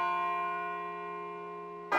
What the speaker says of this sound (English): It sounds like a bell, but where's it coming from?